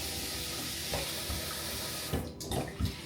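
Tap water runs steadily into a sink while rice is being rinsed, a constant close rushing stream with a few brief splashes and clunks toward the end.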